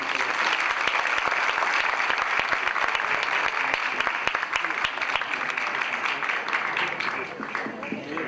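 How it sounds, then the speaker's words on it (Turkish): An audience at an outdoor music-course student concert claps loudly and steadily, the dense applause continuing almost unbroken before easing slightly at the end. "İyi bir alkış istiyor."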